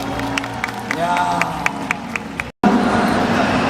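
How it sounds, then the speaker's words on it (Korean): Audience applause and scattered cheering at a showcase event in a large indoor venue, sustained clapping from a crowd with a brief cut midway, filling the clip at moderate loudness. "박수 한번 주시죠"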